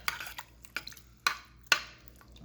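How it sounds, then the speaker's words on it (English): Tomato paste being stirred into stewing beef in a pot for Hungarian goulash, giving a few distinct clinks and scrapes of a utensil against the pot at a steady, unhurried pace, close and fairly quiet. "I'm going to mix it together."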